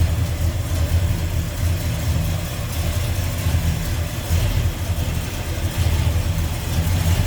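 1967 Ford F100 Ranger pickup with headers, new carburetor and electronic ignition idling loudly nearby, a deep, steady rumbling burble with a slightly uneven lope throughout and no talking.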